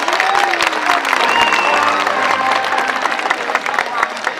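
Audience applause during a killer whale show at SeaWorld San Diego, a loud, dense burst of crowd clapping with some cheering, while a voice speaks over it.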